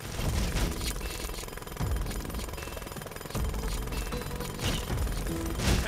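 Construction drills rattle and hammer in the LEGO Movie Videogame's Bricksburg construction site, a dense, loud, continuous grinding clatter with pulsing bursts throughout.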